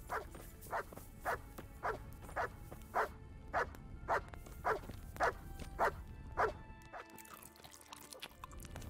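A dog barks in Kingdom Come Deliverance, giving about a dozen sharp, evenly spaced barks roughly every half second over a steady game ambience, with no speech.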